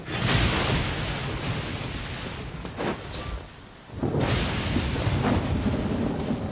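Lightning and thunder in the Genshin Impact world, heard as sustained loud rumbling booms with crackling bursts, briefly dipping before another heavy crash rolls in, no voices.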